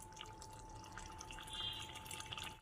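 Water is added to a pot of masoor dal cooking with kalmi shak (water spinach), a faint, close, steady trickle with scattered drips that cuts off abruptly.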